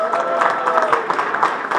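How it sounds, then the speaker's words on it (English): A hall-of-fame induction audience in a hall applauds, a dense, steady wash of clapping with a murmur of voices mixed in. "Give him a big round of applause."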